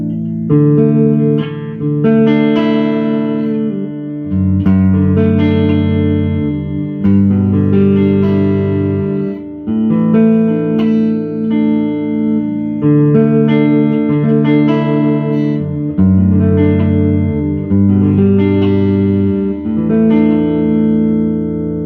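Electric guitar strumming sustained barre chords in a repeating progression, full and close, with some effect on the tone.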